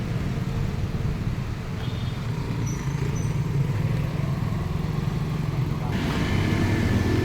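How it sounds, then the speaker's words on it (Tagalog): A motorcycle with a loud broken muffler rumbling steadily at a constant engine note, close and continuous, with road noise and a slight rise toward the end. "Medyo maingay yung ating tambocho, no, at muffler"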